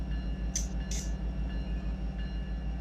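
A freight grain train pulls away in the Run 8 train simulator game in Northern California, a steady low diesel rumble pulsing rhythmically, with two brief sharp hisses near the start.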